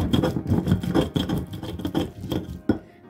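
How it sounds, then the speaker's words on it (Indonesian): Kencur (aromatic ginger) is ground into a spice paste with a stone mortar and pestle, giving close, rhythmic scraping and knocking strokes, continuous and moderately loud without talk. "Setelah halus, masukkan kencur. Kita haluskan juga ya."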